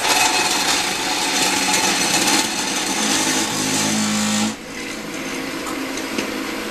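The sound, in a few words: brass shell casing tumbler running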